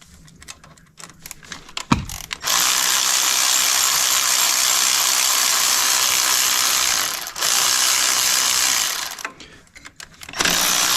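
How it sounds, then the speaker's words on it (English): A ratchet turns out the four bolts holding the EGR valve to the EGR cooler housing on a Mercedes Sprinter van. Close, loud continuous clicking comes in two long runs with a short pause between them, and nobody speaks. "So now I'm gonna remove the 4 bolts that hold the EGR valve on"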